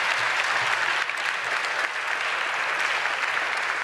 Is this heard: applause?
yes